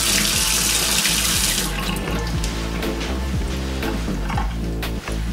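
Cold water pours from a tap onto a metal pressure cooker to cool it, a loud, steady rush with splashing and changing tone as the stream hits the lid.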